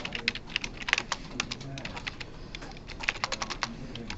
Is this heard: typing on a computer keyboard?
yes